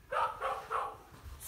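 A dog barks three times in quick succession, close and moderately loud, with no talk over it.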